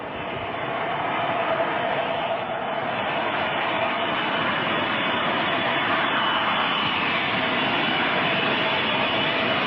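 Steady roar of a Boeing 707 jet airliner's engines, Air India flight, sustained and fairly loud throughout with no letup, as heard from inside the cabin or close by.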